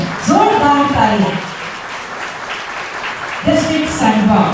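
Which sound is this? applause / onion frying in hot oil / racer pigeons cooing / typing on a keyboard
applause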